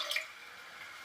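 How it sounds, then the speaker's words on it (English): Water pours into a cooking pot as a brief, steady splashing hiss, close and moderately soft, running continuously for about a second. "I am going to put my water in my pot"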